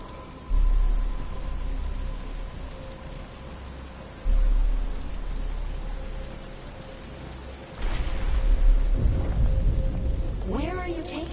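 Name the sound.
rain falling in the video game Arkham Asylum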